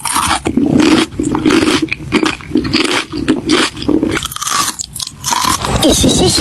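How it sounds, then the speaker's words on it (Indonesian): Crunchy chips are bitten and chewed close up, loud crisp crunches repeating in quick bursts with brief pauses, fairly loud and dominant throughout. "Padahal yang kriuk-kriuk Cherry lagi makan keripik."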